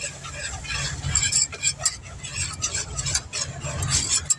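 Flour being stirred into melted butter in a pan to make a roux, with soft scraping and swishing stir strokes up close and a light clink or two of a utensil, fairly quiet.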